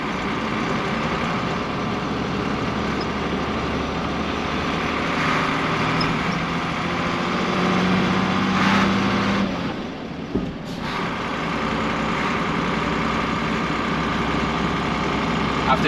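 A 1980 Volvo F7 truck's diesel engine drones steadily while driving, a constant low rumble with cab noise and a brief dip partway through, heard close from inside the cab.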